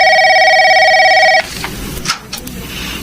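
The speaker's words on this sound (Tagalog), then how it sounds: "Nagre-ring yung telepono natin." A telephone rings as a radio drama sound effect, a loud electronic trill lasting about a second and a half, then cutting off into a quieter stretch of faint rustling and handling noise.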